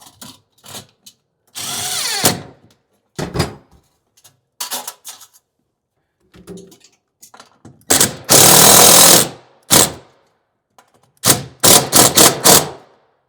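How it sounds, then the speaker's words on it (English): A nut driver with a 10 mm socket drives mounting screws for an over-the-range microwave, heard as loud, close bursts of power-tool whirring in short spurts and longer runs separated by pauses. "So I like to use a nut driver for these Visantis. It takes a 10 millimeter socket."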